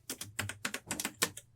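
Quick, light keystrokes clatter on a computer keyboard in an irregular rhythm, close and quiet, with no talking.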